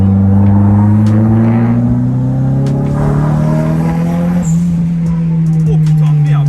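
A Nissan 200SX S13 turbo engine revs loudly from inside the car, its tone climbing steadily in a strong drone as the turbo builds boost, with occasional voices underneath.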